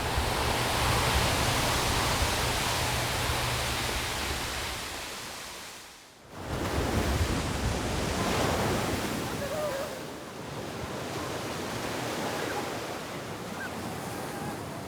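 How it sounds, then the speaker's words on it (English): Powerful hurricane-driven ocean waves pound the Puerto Rico coast in a steady, loud roar of surf with heavy wind buffeting. The roar briefly dips before surging back, with no talking. "Puerto Rico is hit by powerful waves formed by hurricanes"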